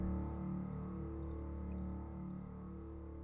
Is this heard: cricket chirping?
yes